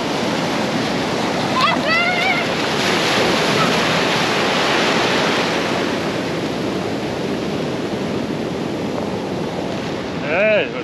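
Ocean surf rolls steadily against the wild west coast of Tasmania near Trial Harbour, a broad continuous wash of breaking waves close by, with brief bird-like chirps early on and a short burst near the end.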